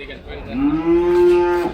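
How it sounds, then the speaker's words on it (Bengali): A single long, drawn-out cow moo at a busy Eid cattle market, close and loud, rising slightly and holding steady before trailing off, with no voices. "গরুগুলো একের মাশাআল্লাহ"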